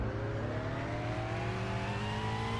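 A Ford Mustang Shelby GT500 and a Dodge Challenger SRT Demon idle and rev in Roblox Greenville before a race, with a steady loud engine drone and rising whine held throughout, no voices.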